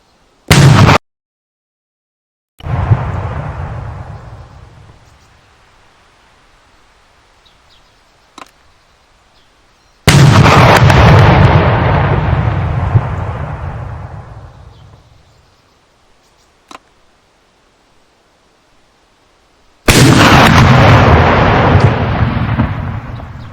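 Rifle shots and explosions in the Arma 3 IFA3WarMod video game, three loud blasts spaced several seconds apart, each with a long rolling echo that fades, plus a few faint clicks between them, no talking.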